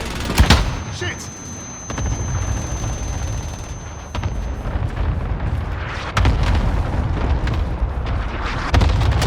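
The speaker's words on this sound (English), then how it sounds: "Marking airstrike target. Got your request. Cluster strike is active." Cluster airstrike explosions in the video game Warzone Pacific: a string of heavy booms and crackling blasts, some sharp and some rumbling, rolling on for several seconds within a dense, noisy battle mix.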